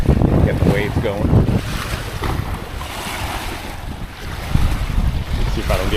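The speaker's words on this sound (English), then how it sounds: "wind's pretty wild. Got the waves going." Strong wind roars across the microphone at the shore of Lake Lewisville in Texas while waves slosh and break continuously nearby, loud and unbroken throughout, with a bit of talk mixed in.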